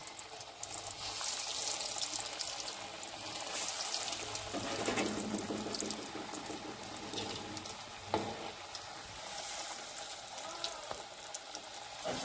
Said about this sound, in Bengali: ডুবো তেলে এগুলোকে ভেজে নিতে হবে